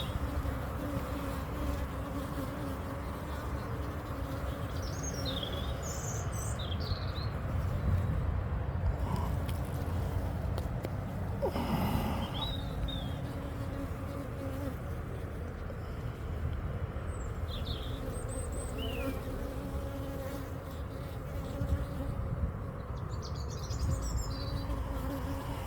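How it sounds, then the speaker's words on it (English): Honey bees buzz steadily around an open beehive during a frame-by-frame inspection, a dense constant drone close up with individual bees whining past now and then. "here we have baby bee being born"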